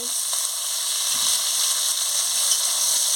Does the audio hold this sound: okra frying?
yes